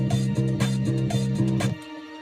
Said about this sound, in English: And then I add the drum loop,